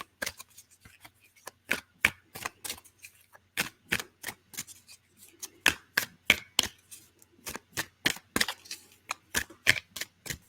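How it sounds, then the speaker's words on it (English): Tarot cards are shuffled up close in a quiet room, giving a long run of crisp papery snaps and taps in an uneven but steady rhythm, with no voices. "give me a chance to shuffle and to pull these cards"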